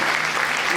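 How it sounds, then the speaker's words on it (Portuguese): A church congregation gives a round of applause during an Assembleia de Deus testimony service, a dense, steady wash of many hands clapping together that fills the whole brief moment. "eu quero primeiramente que os irmãos dêem uma salva de palmas em glória ao Senhor Jesus"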